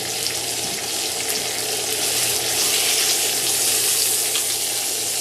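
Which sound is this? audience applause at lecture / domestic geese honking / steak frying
steak frying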